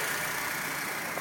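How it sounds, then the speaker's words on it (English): A 2006 Honda Civic engine idles some distance away, giving a faint, steady hum for a brief moment. "So that's the engine at a distance."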